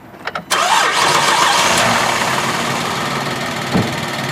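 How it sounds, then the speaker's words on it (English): A vehicle engine cranks briefly and catches, then settles into a steady, loud idle close by with no talking over it. "go ahead and start the vehicle up"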